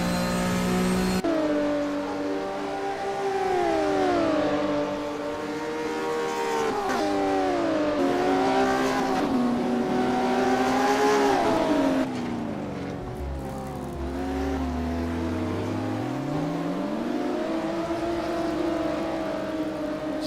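Classic Porsche Cup race cars in a sim racing game at the East London circuit, one drifting into a corner: loud, continuous engine howl rising and falling through gear shifts and sweeping revs, with no talk.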